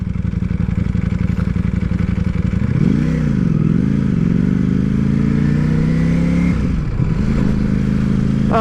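A Ducati Panigale V4 S ridden on the road in second gear, close engine drone that rises and dips with throttle changes, a loud steady roar under wind noise, no talk.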